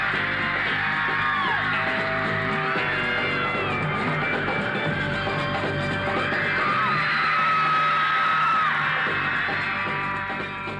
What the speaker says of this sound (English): New Yorkers turned out in force, and making allowance for an American accent, the screams might have been genuine Merseyside.